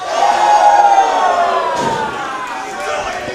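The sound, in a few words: wrestling crowd cheering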